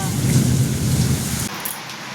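A kalbaishakhi thunderstorm in Bengal, with heavy rain pouring down and a deep rumble of thunder rolling under it, loud and close for about two seconds before the rumble drops away and the rain hiss carries on.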